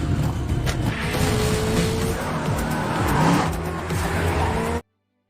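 Cars race in a film chase scene, engines revving and tires squealing loudly through several skids, with a brief pass-by before the sound cuts off abruptly.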